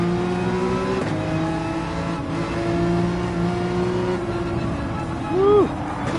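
A Porsche 911 race car engine in Gran Turismo 7 drones loud and steady with shifting pitch, then blips and revs sharply near the end, with tire noise underneath.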